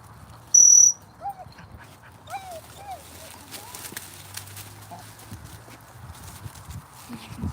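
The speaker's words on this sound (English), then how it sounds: "You probably heard them whinging and whining." Gundogs whine and whimper in short, rising yelps at a moderate distance, over a steady low rumble and scattered outdoor noise.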